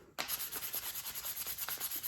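Rhythmic back-and-forth rasping of 400 grit sandpaper on a wooden take-down recurve bow, starting abruptly then repeating in quick, even strokes, close and clear with no talking.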